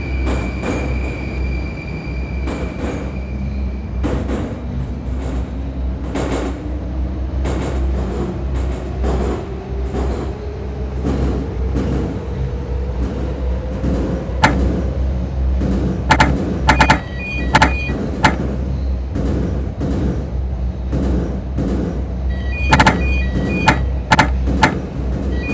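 A suburban electric train closes its doors and pulls away, a rising motor whine climbing over a heavy steady rumble, then rhythmic clacks of wheels over rail joints growing more frequent as it gains speed.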